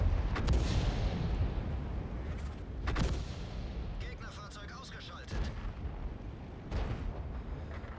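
Artillery shells firing in the tank game World of Tanks, deep booming blasts repeating every second or two over a continuous rumbling battle background, with a player's voice talking throughout.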